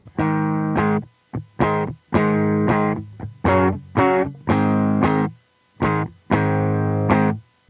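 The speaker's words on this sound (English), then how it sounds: "I'm gonna just play it as it is now without any reverb added." An electric guitar through a Line 6 POD GO plays a series of short, dry notes and chords with no reverb, each cutting off abruptly into silence with no lingering ring.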